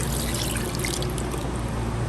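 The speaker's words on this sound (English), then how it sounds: "Now I'm just going to add some beef stock." Beef stock poured into a pan with fat in the bottom, a steady close liquid splash and trickle that runs without a break and without any talking.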